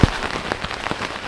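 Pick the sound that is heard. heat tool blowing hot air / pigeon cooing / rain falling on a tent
rain falling on a tent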